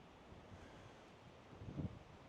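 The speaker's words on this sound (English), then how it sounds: "That wind is so strong." Strong wind gusting across an open golf course makes a steady broadband roar that swells into a heavier buffet near the end, with no voices heard.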